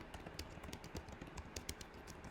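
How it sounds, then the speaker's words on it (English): Fingers type on a computer keyboard in a quick, steady run of light clicks and taps, close and fairly quiet, with no voice over them. "And I can just start typing."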